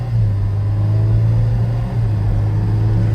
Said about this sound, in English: Once my bro get past this little turn, he driving the Infiniti G37